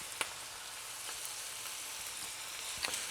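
Onions and tomato paste frying in a pan for Greek kayanas, a steady, fairly faint hiss of sizzling with a few small pops and crackles.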